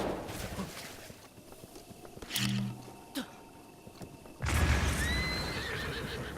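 A horse neighs loudly in The Legend of Zelda: Breath of the Wild, with hooves and a rumbling animal roar following, close and prominent over background ambience.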